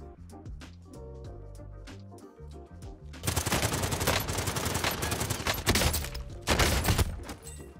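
Gunshots ring out in a Fortnite gunfight: after a quieter musical stretch, loud, dense bursts of rapid gunfire break in and continue in heavy volleys until the end.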